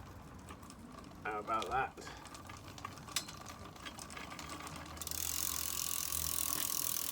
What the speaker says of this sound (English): Just going to hold on to the spindle in the middle of the pump and turn the pedals.